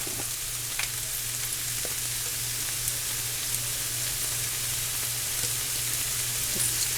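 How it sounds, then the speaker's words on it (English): Steady, hissing sizzle of garlic frying in a pan with beef and vegetables for a stir fry, an even crackle with faint clinks, with no talking. "Now I'm going to add some garlic."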